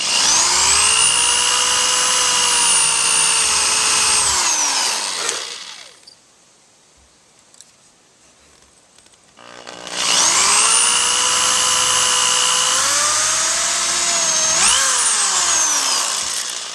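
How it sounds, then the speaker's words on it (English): A power tool cuts a notch in wood for a homemade clothes hanging rack. It whines loudly in two long bursts separated by a few seconds of near silence, and its pitch sags and winds down as each cut finishes. "he still needs to cut out that notch"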